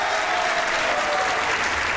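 A live comedy show audience claps loudly and continuously to vote for a band member, a thick, even burst of applause from a large crowd that fills the whole moment without voices.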